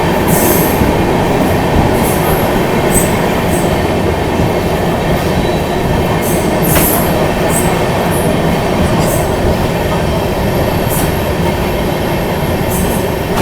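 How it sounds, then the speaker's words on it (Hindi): Lucknow Mail express train rolling through Anand Vihar terminal station in Delhi, a loud steady rumble of wheels on track with faint metallic squeals and clicks running through the whole stretch, no talk. "भाई नॉर्मली स्पीड में स्किप कर रही है, लेकिन आनंद विहार रेलवे स्टेशन जो कि एक टर्मिनल रेलवे स्टेशन है"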